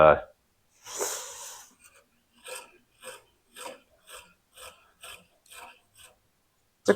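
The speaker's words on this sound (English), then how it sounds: "I'm grinding on it until that oxide coating comes off as just a starting point" Grinding to strip the oxide coating off cast iron rings from a 1945 International K3, a short rasping burst followed by a steady series of evenly spaced scraping strokes, close and moderately loud.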